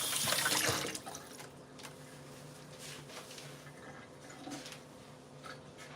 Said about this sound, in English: let's wash out our measuring spoon really fast